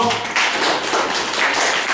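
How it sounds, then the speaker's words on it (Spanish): Applause for a school team at an elementary school event, a steady burst of many hands clapping at close range through the whole stretch. "fuerte aplauso para este equipo"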